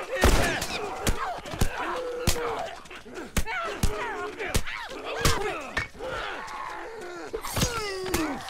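Gunfire in The Last of Us, as repeated sharp shots crack at irregular intervals, mixed with groans, thumps and other game effects, while someone talks quietly in between.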